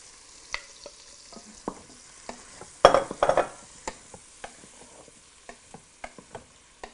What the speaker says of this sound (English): we're going to put these in and saute that in there.